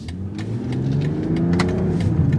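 A 2024 BMW M240 sports car drives and accelerates, its engine note rising steadily under a continuous, loud rumble with no talking.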